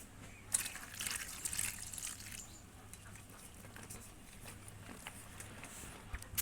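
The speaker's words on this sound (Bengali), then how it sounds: "এবার আমি জালমুড়িগুলো ধুয়ে নেব।" Puffed rice (jhalmuri) being washed in a bowl of water in a home kitchen, giving soft, faint patter and dripping splashes that continue steadily at low level with no talk.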